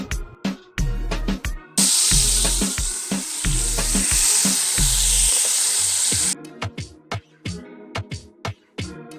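Food sautéing in a pan at a cooking class, a loud, steady sizzle rising for several seconds under a thumping music beat that plays throughout.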